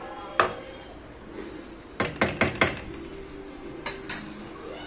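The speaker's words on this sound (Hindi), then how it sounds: "इसे अच्छे से मिक्स कर लेंगे।" A spatula mixes leftover fried rice with chopped coriander in a metal pan, giving sharp scraping clanks. One comes early, then a quick run of four, then two more later.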